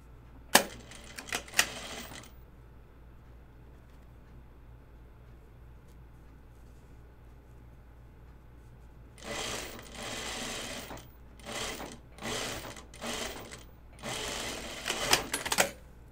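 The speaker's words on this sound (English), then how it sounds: "And now I'm going to sew the whole thing." Sewing machine stitching a sagebrush-style top: a short rattling burst of stitching, a quiet pause, then several close, rapid bursts of needle chatter with brief stops between.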